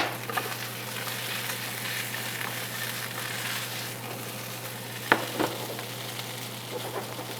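Potatoes frying in a pan for German Bratkartoffeln, a steady close sizzle and crackle running throughout, with a couple of brief sharper scrapes or clicks near the end and no talking.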